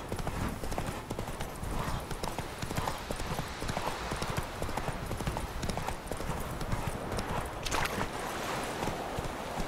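Horse hooves in Witcher 3 gallop in a steady, dense clip-clop that runs without a break, loud and close, with a faint voice somewhere in the mix.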